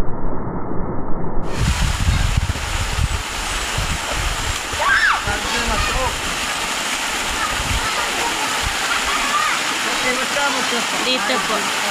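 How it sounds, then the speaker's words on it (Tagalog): A waterfall pours in a steady, broadband rushing roar that continues close by for the whole stretch, with voices faintly audible at moments. "May falls po siya."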